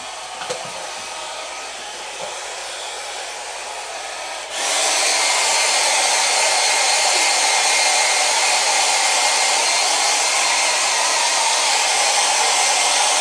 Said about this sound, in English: I have powdered watercolors on here, and I need to like blow dry this